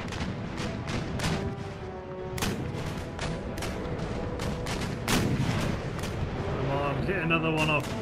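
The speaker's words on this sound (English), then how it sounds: "I'm gonna fire chain into Good Hope." Naval cannons fire chain shot at an enemy ship in Empire: Total War, a rapid series of sharp, booming blasts that keep coming throughout, with a voice talking over the gunfire.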